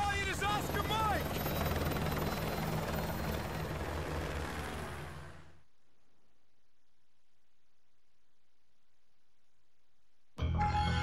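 A military helicopter in Call of Duty: Modern Warfare 2 roars loudly with a heavy rotor thrum and turbine whine, joined by voices. The sound fades out to near silence for several seconds before noise abruptly returns.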